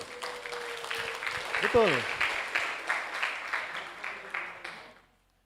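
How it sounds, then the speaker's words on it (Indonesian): A seminar audience gives a short round of rhythmic applause, with a brief spoken word over the start of the clapping before it fades out. "tepuk tangan buat kakak itu"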